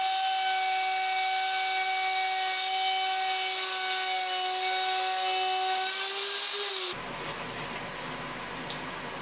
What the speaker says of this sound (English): I'll cut a groove in the neck for the truss rod and install the truss rod